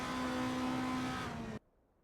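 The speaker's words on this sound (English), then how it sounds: "We are currently watching a racing simulator." Simulated 1960s prototype race cars lapping Le Mans in a racing video game, a loud steady engine drone with a high whining tone that holds for about a second and a half, then cuts off abruptly to near silence.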